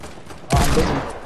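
A single loud, sharp burst of rapid gunfire erupts partway through in an online squad shooter game, ringing out briefly and then fading.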